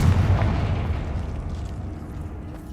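A Confringo blasting spell explosion from the Hogwarts Legacy video game, one heavy boom at the start that rolls off into a decaying rumble over a few seconds.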